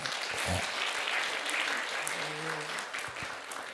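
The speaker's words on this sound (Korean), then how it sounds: "박수 한번 쳐주세요." A church congregation gives a round of applause during an evening worship gathering, a faint steady clapping wash with a low hum and murmur underneath.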